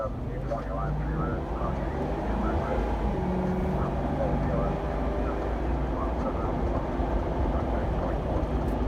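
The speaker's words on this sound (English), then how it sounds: "that was a 0 to 50. I gave it a little bit of gas at the beginning, but then I eased off on the gas pedal" A Ford Crown Victoria Police Interceptor accelerates from 0 to 50, heard as a steady, dense engine and road drone from inside the cabin. A voice is faintly mixed in.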